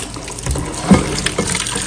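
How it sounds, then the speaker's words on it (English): Cold tap water runs steadily and splashes into a pot as it fills, a continuous close gushing with no talking. "And I'm going to put some cold water in."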